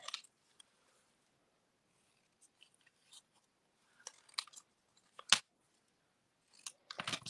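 Scissors fussy cutting around a paper sentiment for a stamped card, a series of quiet, close, crisp snips in irregular bursts separated by silence.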